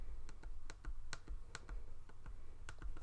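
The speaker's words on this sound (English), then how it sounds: "I'm going to go ahead and write personal if I can fit it" A pen writing the word "personal" onto a patterned paper cash envelope, heard as a series of quiet, close scratchy strokes and taps coming in short irregular bursts.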